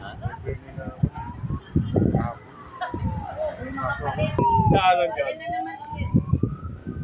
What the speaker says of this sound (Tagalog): May naririnig na tayong fire trucks.